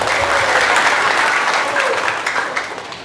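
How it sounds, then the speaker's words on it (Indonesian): A congregation at a Bugis-language Islamic sermon breaks into applause, a thick, sustained wash of many hands clapping that stays loud, then thins out toward the end, with voices faintly underneath. "Tepuk tangan dulu, tepuk tangan dulu."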